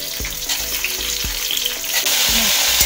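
Sliced kundru (ivy gourd) fries in hot oil in a pan, giving a loud, dense sizzle punctuated by repeated thuds as the pieces are stirred.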